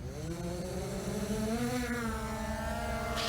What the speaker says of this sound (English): It's spinning the props.